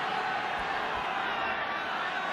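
Stadium crowd at a rugby league match between Warrington and Hull in 2013, a continuous distant roar and murmur with no distinct voices.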